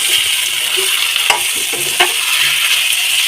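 Rupchanda fish curry masala sautéing in a pan, a steady close sizzle with occasional scraping stirs and soft clicks of the spoon against the pan, no voices.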